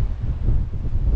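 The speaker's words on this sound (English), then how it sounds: "it's so much strong wind again outside" Strong outdoor wind buffeting the microphone, a steady low rumbling roar with no break, heard alone while concrete floor work is underway.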